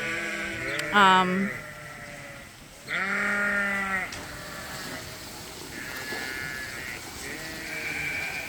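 Sheep bleat several times nearby, two loud wavering calls followed by fainter bleats in the background.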